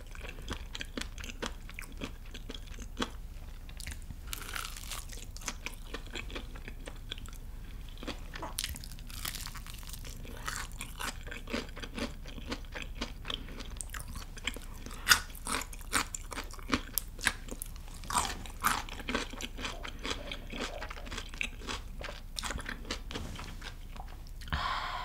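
Someone bites into and chews crunchy BBQ Golden Olive fried chicken drumsticks close to the microphone, with a steady stream of crisp crackles and snaps amid quieter chewing, no talking.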